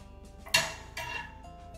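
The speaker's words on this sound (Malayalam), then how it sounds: "ഇതെല്ലാം കൂടി നമുക്ക് നന്നായിട്ടൊന്ന് മിക്സ് ചെയ്ത് കൊടുക്കാം" Rava kesari mixed with roasted nuts in a pan, heard as a few soft clinks and scrapes of a utensil against the pan with short gaps between strokes, quiet and close.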